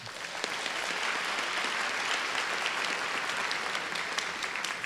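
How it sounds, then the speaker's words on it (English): An audience at the 2023 White House forum on Asian American and Native Hawaiian and Pacific Islander communities gives a round of applause. The clapping is loud, dense and continuous, with no talking. "Give yourselves a round of applause."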